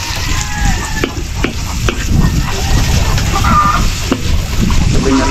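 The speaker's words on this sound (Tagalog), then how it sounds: "Mga karabas, luto tayo ng sibuyas." Onions, a big heap of them, sizzle and crackle steadily in a pan, with utensil scrapes and stirring clatter throughout and a rooster clucking faintly in the background.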